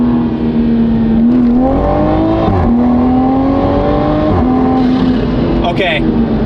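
A Toyota Supra on drag radial tires accelerates hard in second gear, its loud engine note climbing steadily with brief dips at the shifts, heard from inside the car.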